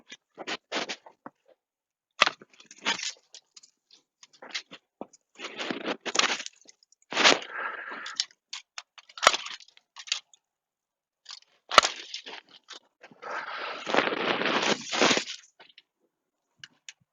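Pruning shears snip panicle hydrangea stems low near the ground outdoors, giving short crunching cuts in scattered clusters with rustling of branches between, close and quiet.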